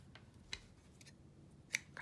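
Scissors snip thread while a butterfly button craft is being made, with two or three short, sharp clicks spaced apart in an otherwise quiet room.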